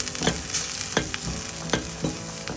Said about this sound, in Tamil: இப்போ நமக்கு broccoli வதங்கி 3 நிமிஷம் ஆயிச்சு